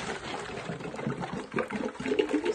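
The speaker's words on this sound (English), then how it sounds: "See how it's kind of glug, glug, glug, glug, glug, glug?" Water glugging through a tornado tube joining two bottles, the square one on top, giving an uneven run of gurgling gulps and splashes, close and moderately quiet without speech.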